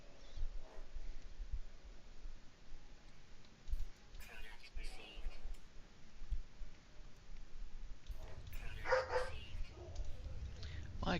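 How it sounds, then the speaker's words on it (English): A dog barks intermittently indoors in a few scattered bursts, fairly close, mixed in with background noise and clicking. "Crazy dog."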